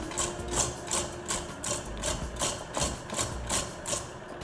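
An electric mixer beats pineapple cake batter in a bowl, a close whirring hum pulsing in a fast, even rhythm throughout.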